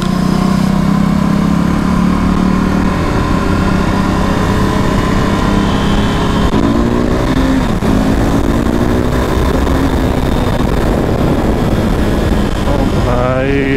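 A KTM Duke or RC 390 motorcycle engine runs loud and close for a hill ride in Kangra, a steady droning roar with rising and falling revs and wind rushing past.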